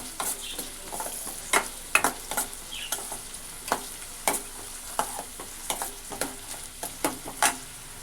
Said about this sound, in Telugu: పచ్చిమిరపకాయలు వేసాను, పచ్చిమిరపకాయలు కూడా కొద్దిగా వేయించడం.